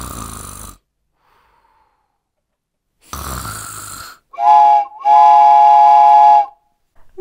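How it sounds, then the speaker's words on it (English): A cartoon train whistle blows twice in long, loud, steady hoots after a burst of hissing steam and a stretch of silence. "It's a train!"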